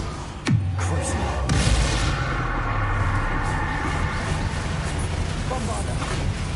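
A Bombarda blasting spell goes off in Hogwarts Legacy: a sharp bang near the start opens into a loud, dense, sustained rumble of explosive noise that fills the whole stretch.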